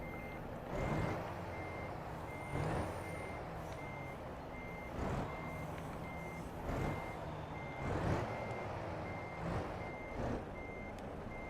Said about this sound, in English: Can I just decouple the truck and push it?